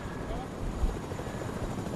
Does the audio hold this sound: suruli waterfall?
no